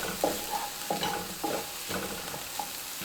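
Tomatoes cooking in a pan with softened vegetables, a continuous sizzle broken by repeated rhythmic scraping and stirring strokes of a utensil against the pan.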